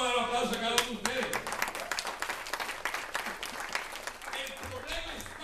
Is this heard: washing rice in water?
no